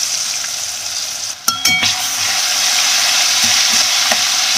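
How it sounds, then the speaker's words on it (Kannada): Small chopped potato pieces dropped into a hot pan for a fenugreek-leaf rice breakfast, with a brief clatter near the start followed by a steady, loud, close sizzle of frying that continues to the end; no one speaks. "ಫಸ್ಟು ಆಲೂಗೆಡ್ಡೆ ಹಾಕ್ತಿರೋಣ."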